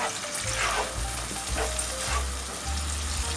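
Noodles and minced meat sizzle steadily in a hot pan, with a continuous frying hiss and occasional stirring scrapes, close and fairly loud throughout.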